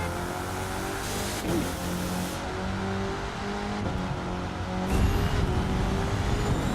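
Car engine in the racing video game The Crew 2, a steady droning rev that holds through the stretch and swells louder near the end, heard alone with no talking.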